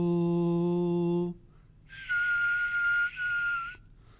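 A sustained, pure whistled tone holds steady for about two seconds, with a slight break midway, following a brief held pitched note and a pause.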